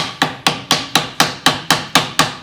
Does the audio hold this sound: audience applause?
no